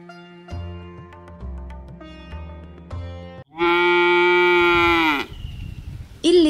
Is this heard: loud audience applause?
no